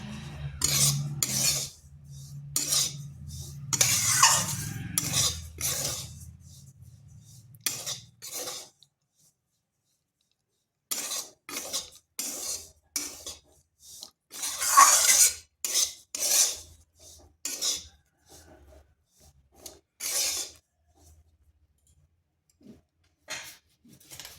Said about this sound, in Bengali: মিডিয়াম আঁচে রেখে সুজিটা একটু ভেজে নিচ্ছি